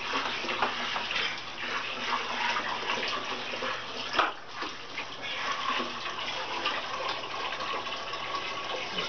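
Water pours and splashes steadily into a 55-gallon aquarium, a continuous gushing rush with one brief louder slosh partway through.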